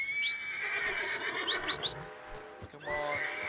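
Horse in the Red Dead Redemption 2 game whinnies loudly several times in quick rising squeals, close and clear, with a snort and a brief hoof knock near the end.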